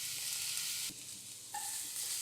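Coriander leaves sauté in a pan with a soft continuous hiss of sizzling, briefly dipping and then resuming, quiet and close with no talking.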